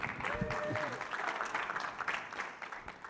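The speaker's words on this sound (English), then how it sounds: "Round of applause, please." An audience at a tech conference session applauds steadily for a few seconds, with a whoop and crowd voices mixed into the clapping as it tapers off.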